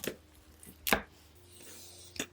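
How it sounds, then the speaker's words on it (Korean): Carrots being chopped into large chunks for a tomato dish, with two or three sharp knife strikes on a cutting board standing out against quiet kitchen background. "당근은 큼직한 크기로 써시고요"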